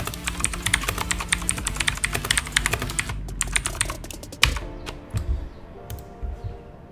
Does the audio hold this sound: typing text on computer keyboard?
yes